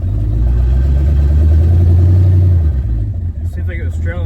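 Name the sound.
Big Block twin turbo Ford Fairmont engine revving on test drive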